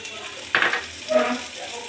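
Onion, green chili and garlic paste fry in a pan for a chili jackfruit dish, a close sizzle with two short bursts of stirring scrape and a faint clink.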